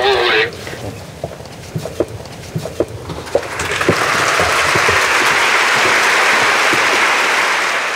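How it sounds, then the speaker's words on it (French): Warm audience applause after an opera performance by a tenor, starting with a few scattered claps and swelling into a loud, sustained ovation filling the hall. "le public applaudit aussi chaleureusement"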